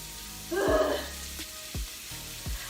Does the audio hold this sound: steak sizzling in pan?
yes